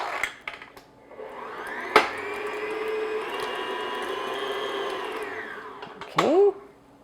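An electric mixer beats room-temperature butter in a bowl, a steady whirring drone lasting about four seconds between clicks, ending with a brief whine as it switches off.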